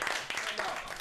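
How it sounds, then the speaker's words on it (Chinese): Brief burst of clapping from a group encouraging a child on a summer outing, a quick scattered patter of hands at low volume that fades almost as soon as it starts. "聪明，给他掌声鼓励。"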